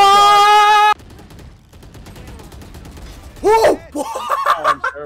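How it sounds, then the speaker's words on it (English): Gunfire in the shooter game Valorant comes as a few sharp clustered bursts near the end, after a loud tonal game sound at the start, with players talking over it. "Right there, Justin, shoot him."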